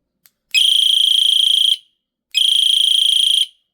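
Alarm siren on an EDC SMINGX1 YC8001 flashlight, two loud, shrill, buzzing high tones, each about a second long with a short gap between, preceded by a tiny click, nothing else audible.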